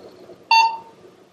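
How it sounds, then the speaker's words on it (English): A single short electronic beep from the record button of a dog training talking button, a clean bright tone standing out sharply over a quiet room background. "Press record button on side until the beep and hold to record up to 30 seconds."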